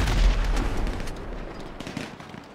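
A rocket launcher blast in GTA 5 blowing up a car, a loud booming explosion at the start that rumbles and decays over a couple of seconds.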